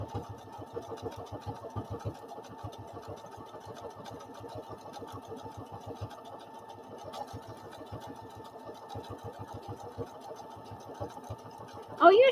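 A sewing machine stitches in a quiet room, a close rapid mechanical chatter in bursts that pause and restart, with a brief voice right at the end.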